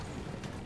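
Rapid galloping horse hooves in Assassin's Creed 2, a quick run of steady clip-clop beats lasting under a second.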